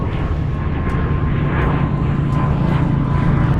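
A WestJet airliner passes near an airport, its engines a steady broad roar of moderate loudness lasting throughout, with no voices.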